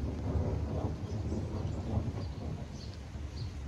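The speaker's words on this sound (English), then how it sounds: "Tracking a strong thunderstorm that is now making its way into Hooksett, New Hampshire." Deep rumbling thunder from a strong thunderstorm moving into Hooksett, New Hampshire, a continuous low roll that swells and fades across the whole stretch, fairly loud and steady with no voices over it.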